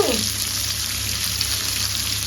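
Marinated fish pan frying slowly, a steady close sizzle of oil hissing around the fillets, continuous and even throughout with no talking.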